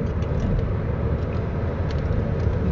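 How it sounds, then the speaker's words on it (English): Dense traffic roars continuously on a busy expressway in Oman, a steady broadband rush of many passing cars heard close and loud without voices. "very busy so many cars"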